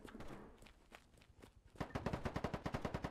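Gunfire from the free-to-play shooter game Polygon: scattered shots and footsteps early on, then a loud, steady rapid-fire burst of automatic weapon fire, close and dominant.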